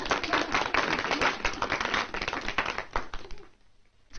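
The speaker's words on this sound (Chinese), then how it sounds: "让我们鼓掌欢迎啊" Classroom students clap together to welcome new classmates, a bright, dense patter of applause that runs steadily before fading out near the end, with a brief spoken word.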